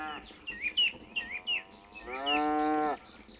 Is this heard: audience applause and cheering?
no